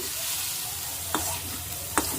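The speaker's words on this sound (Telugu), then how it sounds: "ఒక స్పూన్ ఆయిల్ వేసుకుంటున్నానండి ఒక టమాటా చిన్నది కట్ చేసి వేసుకుంటున్నానండి టమాటా మగ్గించుకోవాలండి" Chopped tomato sizzles and fries in a spoonful of oil in a pan, with a steady crackle and two sharp scraping stirs of a spoon. No voices are heard.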